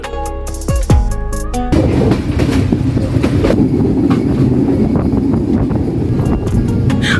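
A train at Santahar railway station in Bangladesh sounds a brief horn, then runs past loudly with a continuous rumble and steady clickety-clack of wheels on track.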